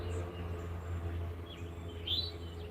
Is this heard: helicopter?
no